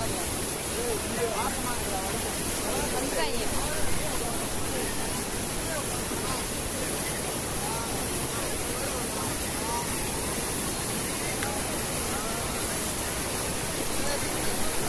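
Water pours over the Ellappatti check dam near Chinnamanur, Theni, making a constant broad rushing roar close by, with people's voices murmuring faintly underneath throughout.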